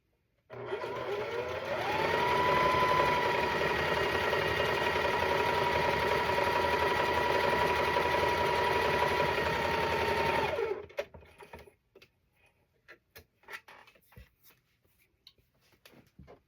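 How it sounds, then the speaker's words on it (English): A sewing machine stitches a quilt block in one continuous run of about ten seconds, the motor whirring up to a loud, steady buzz before stopping abruptly, followed by quiet fabric handling and soft clicks. "now we're going to stitch along this line right here"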